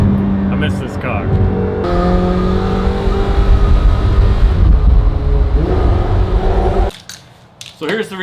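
A McLaren 720S sports car engine rumbles loud and steady for several seconds on a first drive in a while, with a rising rev near the start, before cutting to quieter sound at the end.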